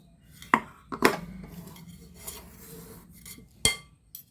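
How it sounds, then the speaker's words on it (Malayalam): A spoon swirled around a pan of sweet potato snack makes a few distinct metallic clinks and scrapes, separated by softer rustling of the food, close and fairly quiet. "ഞാൻ ആദ്യം ഒന്ന് സ്പൂൺ കൊണ്ട് ഒന്നിങ്ങനെ ചുറ്റിച്ച് കൊടുക്കണ്ടേ"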